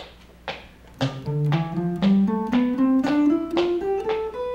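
A guitar plays an ascending scale in steady, evenly spaced eighth notes, each pitch plucked clearly and ringing briefly, alone with no talking.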